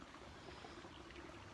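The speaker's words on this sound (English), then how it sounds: "water's running smoothly." A stream runs in a constant, soft, broad wash of flowing water outdoors in nature, quiet and unbroken with no voices.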